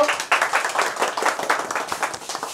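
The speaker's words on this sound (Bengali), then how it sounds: "জোরে হাততালি ইনাদের জন্য" A crowd at a jewellers' New Year lucky draw event claps for a seventh-prize winner. The applause is a brief, fairly close burst of many hands clapping in quick, uneven rhythm.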